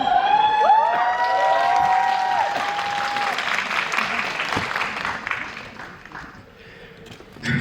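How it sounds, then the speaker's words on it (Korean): Loud audience applause and cheering greeting actors as they walk on for a film screening event, sustained clapping with a few whoops early on that slowly thins out, and a brief voice near the end. "큰 박수로 맞이하겠습니다"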